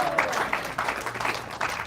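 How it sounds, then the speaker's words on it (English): Brief applause from a lecture audience at a Govardhan Puja gathering, a modest room of clapping hands with uneven bursts, fairly close and not very loud. "One round of applause to Mataji."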